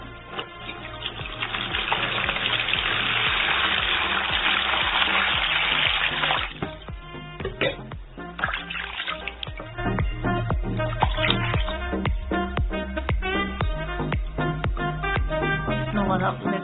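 Running water rinses skin, a steady gushing stream for the first six seconds, followed by intermittent splashing and trickling as the flow is broken up by hands.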